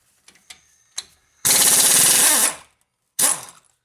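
A powerful impact gun hammers on a Nissan Rogue CV axle nut in a loud, close rattling burst of about a second, followed by a shorter second burst, with a few clicks and taps before.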